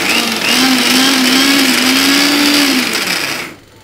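A mixer grinder running loud and close while grinding coriander spice powder, a steady whirring motor drone with a slightly wavering pitch that cuts off near the end.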